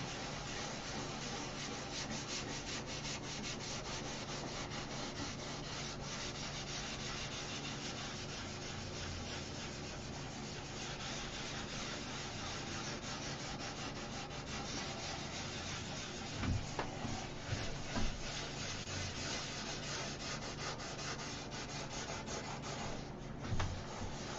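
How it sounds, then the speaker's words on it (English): Sandpaper is worked by hand over a clear coat finish in a continuous, soft scratchy rub with a steady back-and-forth texture, fairly quiet and close, with a few small knocks near the end and no talking. "So I can sand."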